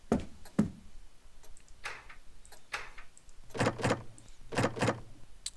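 Locked doors rattling in the horror game Deep Sleep, several short clattering bursts: two quick knocks early, then louder repeated rattles in pairs toward the end, close and dry with no talk.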